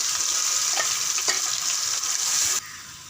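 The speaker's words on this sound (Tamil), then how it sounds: "நம்ம இதோட போட்டு வதக்கிக்கும்" A thick ground garlic spice paste sizzles and fries in a hot pan for country chicken curry with a few scraping stirs, steady crackle that suddenly drops quieter near the end.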